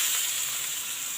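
Onions and curry leaves sizzle in hot oil in a pan while Tamil upma is being cooked, giving a steady, close frying hiss with no talk over it.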